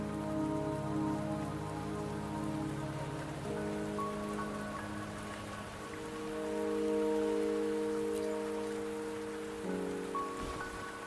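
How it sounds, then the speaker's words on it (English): Steady rain falls in the Wuthering Waves video game, a continuous patter on surfaces beneath sustained, soft ambient music tones, with no voices present. "Don't worry, the rain won't last much longer."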